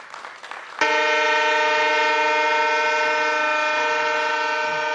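Steady, loud train horn from the Rajdhani Express on the Mizoram railway service, sounding as one long sustained blast after a brief noisy lead-in.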